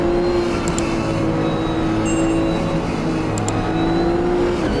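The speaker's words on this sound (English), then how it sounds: "I'm going to drive the Nissan GT3 and see how good the car is and how good the racing is" A Nissan GT3 race car in the Automobilista 2 racing game holds a loud, steady engine drone with sustained tonal whine throughout, plus faint high electronic beeps briefly overhead and no talk.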